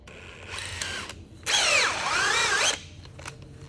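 A power drill whirs through dust-making work at home, with a short speed-varying burst, a pause, then a louder sustained run that winds down, followed by a brief blip.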